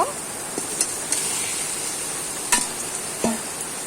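Marinated meat fries with spices in a pan under a soft, constant sizzle, while a spoon scrapes and knocks against the metal in a few distinct clicks.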